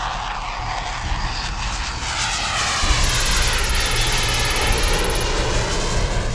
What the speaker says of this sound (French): Le deuxième Rafale escorte l'autre jusqu'à la piste, puis repart directement dans les airs.